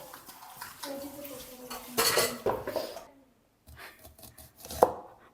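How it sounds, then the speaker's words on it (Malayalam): Dishes and cutlery clatter while being washed, with clinks, scrapes and knocks of metal and crockery. A short pause falls midway before more clinking resumes. "കഴുകാനുള്ളത് കഴുകി വെക്കട്ടെ"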